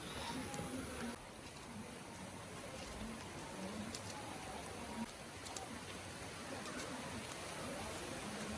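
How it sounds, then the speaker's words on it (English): Steady rain falling outdoors on an off-grid family homestead in Bohol, a dense, constant hiss of drops on surfaces at moderate, even intensity across the whole stretch. "Getting harder. The rain, yeah."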